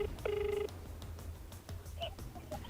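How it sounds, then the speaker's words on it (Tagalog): A telephone call being dialed: a quick run of keypad tones, followed by faint, sparse ringing tones over a quiet background. "Sinubukan ni Alexis na tawagan ang nakalagay ditong numero"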